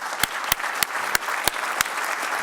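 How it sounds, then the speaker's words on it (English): Brief applause from a medical conference audience at Harvard Medical School, dense clapping with a few sharp, distinct claps standing out near the microphone. "I would like to offer a round of applause to all of them."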